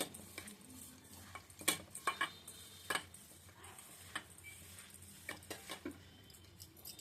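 Soft stirring, squishing and light clicking as food is mixed by hand in a home kitchen, in uneven bursts up close, with no talking.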